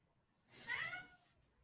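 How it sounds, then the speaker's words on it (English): A cat meows once from behind a closed door, a single drawn-out muffled cry in an otherwise quiet room. "I can hear my cat meowing behind the door"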